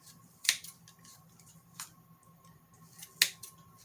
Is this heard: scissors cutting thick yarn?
yes